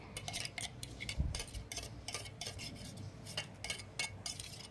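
Ground green masala paste for a hariyali chicken roast being scooped from a grinder jar into a small bowl, with a steady run of light metallic clinks and scrapes of a spoon against the container, close and fairly soft, no talking.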